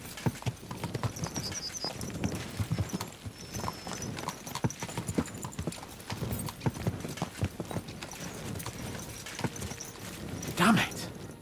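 Horses' hooves clip-clop in a steady, busy rhythm during riding in the video game Kingdom Come Deliverance 2. A brief whinny rises near the end, and there is speech in the background.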